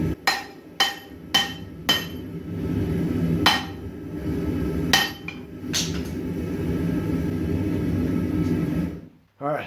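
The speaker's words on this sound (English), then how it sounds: "try and forge weld it back together again" Hot folded steel is hammered in a forge weld attempt: sharp, ringing metallic blows, a quick run of four followed by a few spaced strikes, close and loud over a constant roaring forge rumble.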